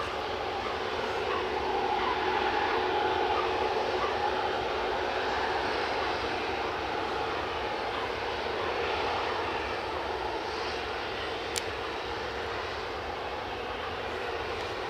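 An aircraft on final approach to Edinburgh airport, a steady distant broadband roar held evenly throughout with no voices.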